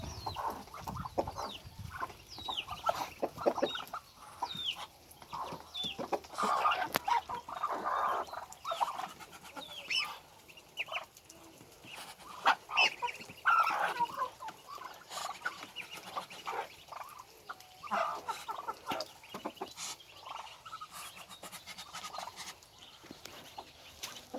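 Chickens and ducks being fed, clucking and squawking continuously, a busy flock calling over one another at moderate distance.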